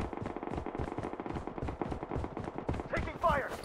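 Rapid automatic AK47 fire in the shooter game Blood Strike, a dense stream of sharp cracks running throughout, loud and close, with game effects and a voice callout layered on top near the end.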